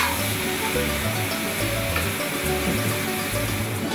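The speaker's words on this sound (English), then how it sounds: "A dash of water makes it sizzle and cook through." Large tiger prawns with onion and garlic sizzle steadily in a hot pan after a dash of water, an even, close hiss with faint low stirring thumps underneath.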